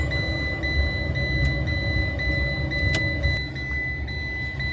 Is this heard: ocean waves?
no